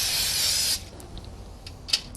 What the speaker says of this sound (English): They get a quick spray.